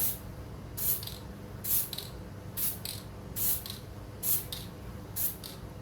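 A spray can primes a painted miniature figure. Six short, evenly spaced hissing puffs are each followed by a faint mechanical creak over a quiet background.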